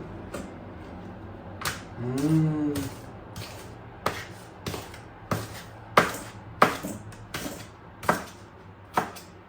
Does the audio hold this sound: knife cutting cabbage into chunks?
yes